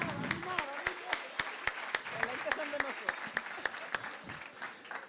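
Applause at an education conference, with sharp, regularly spaced claps in a steady rhythm under ongoing talk, fairly quiet and somewhat distant.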